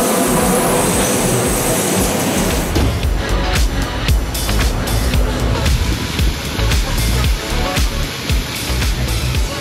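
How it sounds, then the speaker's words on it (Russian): A Berlin U-Bahn metro train arriving at an underground station, loud rumbling wheels and rattling cars with metallic squeal and clatter building and passing close by, filling the platform with dense noise. "Ждем поезд, который обязательно придет."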